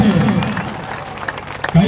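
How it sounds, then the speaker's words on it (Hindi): A crowd at a political rally in Dinara, Sasaram, Bihar claps briefly, a short burst of dense applause with a louder voice over it. "अब बजा लीजिए ताली एक बार"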